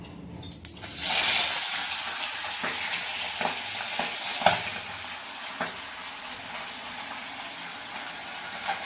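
Pabda fish frying two at a time in hot oil in a wok, a sharp burst of sizzle as they go in, then a steady close crackling hiss with a few scraping stirs, no talking.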